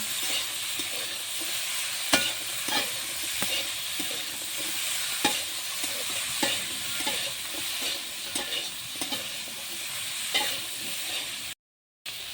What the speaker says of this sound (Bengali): দিয়ে উচ্ছেগুলো একটু ভাজা ভাজা করে নামিয়ে নেব।